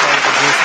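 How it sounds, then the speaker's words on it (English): Loud, dense applause from an audience at a fan podcast taping, steady for under a second. "give yourself a round of applause"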